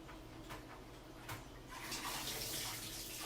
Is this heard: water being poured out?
yes